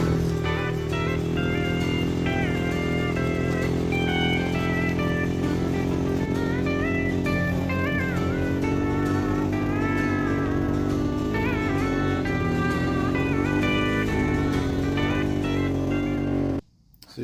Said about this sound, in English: I'm hooking it to the four-wheeler and we're gonna go for a ride around the yard.